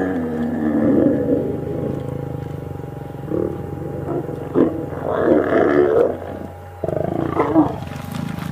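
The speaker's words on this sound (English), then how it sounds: "Just listen to the roar." A male lion roars while mating with a lioness in the wild, a series of deep rumbling growls and throaty roars that rise and fall over several seconds, close and loud with brief pauses between.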